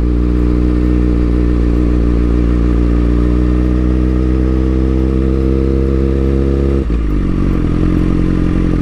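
A motorcycle engine runs loud and close through a slow turn, holding a steady, droning pitch that rises gradually before the revs drop sharply near the end.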